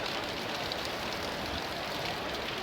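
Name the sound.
steady rain falling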